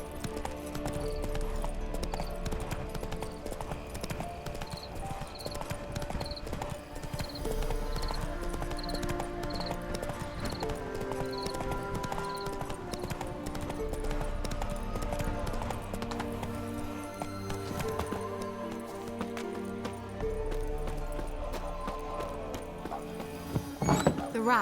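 Roach the horse trots in The Witcher 3, hooves clip-clopping in a steady, fairly close rhythm for the whole stretch, with soft thuds and faint game ambience underneath.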